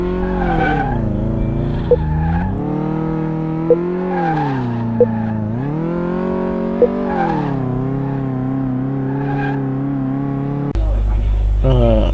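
Car in Car Mechanic Simulator 2018 on a test drive, its engine whining and rising and falling in pitch under a continuous skidding tire squeal, loud and close, ending abruptly with a burst of noise.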